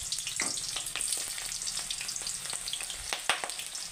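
Chopped onions and green chillies sizzling in hot oil in a pan, a steady crackling fry with occasional sharp pops and stirring clinks, close but fairly quiet, no voices.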